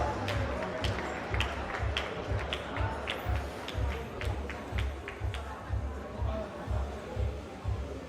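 An audience at the Graz bouldering finals awards ceremony claps for the U17 podium finalists. The clapping is steady and rhythmic, in unison, and moderately distant, with crowd murmur underneath.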